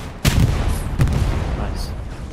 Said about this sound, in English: Dancy comes back with his rocket launcher